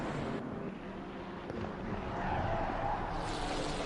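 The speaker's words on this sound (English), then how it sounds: "You can hear the tyres squealing." Race car tyres squealing on the Nordschleife in a racing video game, a faint continuous screech over engine noise that swells slightly toward the end.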